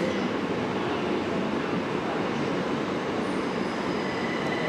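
Train rumbling steadily at Southampton Central station: a continuous, broadband roar of wheels and engine that holds at an even loudness throughout, with faint high squeals near the end.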